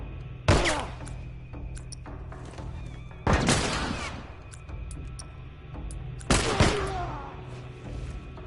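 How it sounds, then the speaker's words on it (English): Gunfire in The Last of Us: three loud, sharp shots a few seconds apart, each ringing out into a decaying echo over faint background ambience. "You guys want to shoot him, please?"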